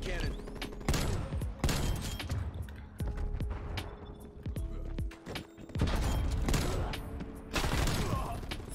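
Heavy hand cannon fire in Call of Duty: Black Ops 2, with repeated loud booming shots at irregular intervals amid game effects and mechanical clatter.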